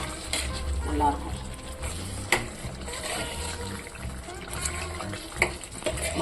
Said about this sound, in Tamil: ஒரு 2 நிமிஷம் நல்லா கொதிக்க விட்டுடலாம்.